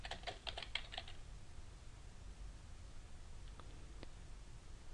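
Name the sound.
typing on a computer keyboard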